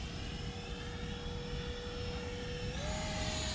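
A 3D printed Mirage 2000 radio-controlled model jet flies steadily overhead with a continuous, fairly loud turbine whine that rises slightly in pitch near the end, with no voices.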